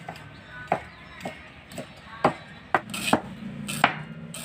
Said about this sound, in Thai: หั่นต่อครับ